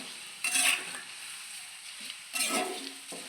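Chunks of beef chilli sizzle in a hot pan as two bursts of scraping stirring rise over a steady frying hiss, close and moderately quiet, with no voices.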